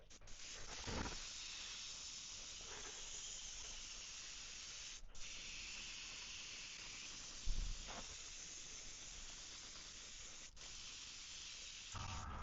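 An aerosol spray hisses in bursts while silver paint is applied to a 3D-printed swimbait, steady faint spraying broken by short pauses and soft handling knocks.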